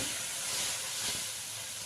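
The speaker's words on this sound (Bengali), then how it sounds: "তো দেখো আমি ভেজে নিচ্ছি" Sliced okra and potatoes fry in a pan with a steady hissing sizzle and soft bubbling, close and even, with no speech.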